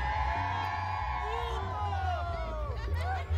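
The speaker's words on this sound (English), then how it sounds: "Fans are definitely having a good time, as you can hear in the background." Wrestling fans at a lucha event whoop and shout over a constant crowd hubbub, with rising and falling cheers and yells scattered throughout.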